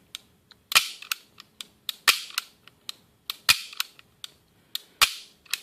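Modded airsoft pistol fitted with a new spring, a string of sharp close snapping shots in an uneven rhythm, some louder cracks between lighter clicks, with no talking.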